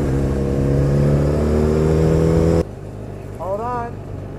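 A motorcycle engine drones loudly and steadily at high revs, then cuts off abruptly, leaving quiet road noise and a short voice.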